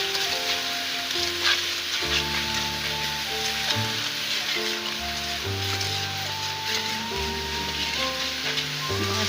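Ground spices including chilli, black pepper, garam masala and chicken masala frying in a pan, a continuous bright sizzle with occasional stirring, loud and close, no talking.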